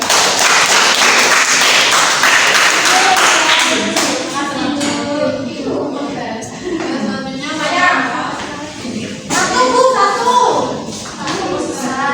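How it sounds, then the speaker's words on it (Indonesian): A group of students claps hands together in a classroom group-guidance session, a dense burst of many hands for the first few seconds that then thins out and gives way to voices speaking. "Tepuk tangan dong."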